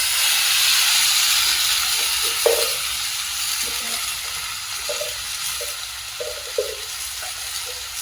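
Chickpeas tossed into a pan of frying potatoes, a loud broad steamy hiss and sizzle that slowly eases, with a few soft knocks of stirring.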